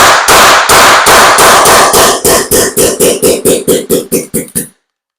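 An HPA-powered airsoft gun dry-fires about eighteen sharp, loud pops in a rapid run. They start dense and even, then space out and weaken as the air in the hose runs out, with no talk.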